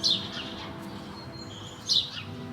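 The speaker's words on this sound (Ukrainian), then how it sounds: "Зранку тут чути, як співають пташки." Two short, high bird chirps ring out about two seconds apart over a quiet outdoor background on a calm, sunny morning in Wrocław, Poland.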